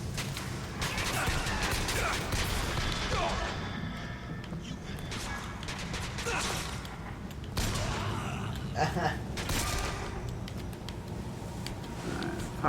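Automated turret gunfire in the video game Bioshock Infinite comes in intermittent bursts of rattling shots over a constant bed of game noise, moderately loud, with a few quieter gaps between volleys.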